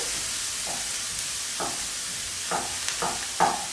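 Onion cooking in a pan for pineapple fried rice, pushed slowly with a utensil: a constant background sizzle with several short scraping stirs at irregular intervals, the last one loudest.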